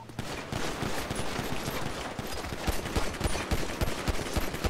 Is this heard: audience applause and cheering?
no